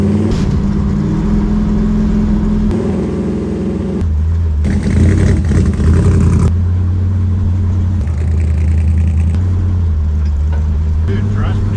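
A race truck's engine rumbles low and steady as it pulls away and cruises, with gear-change dips and rattling cab noise, while people talk over it throughout.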